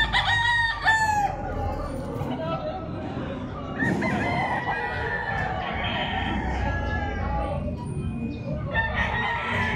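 A yellow-legged street comb gamecock crows loudly nearby, with clucks and more crowing from other fowl around it and a busy farmyard hum underneath.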